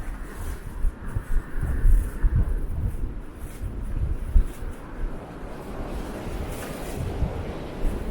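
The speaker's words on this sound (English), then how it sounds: "And now the wind is pushing me." Strong gusts of wind buffet a microphone on a Toronto street, a loud, continuous rumbling roar with surging, uneven blasts throughout.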